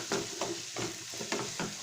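A savory filling cooks in a pan with a continuous sizzle and bursts of stirring, close and moderately loud, with no voices.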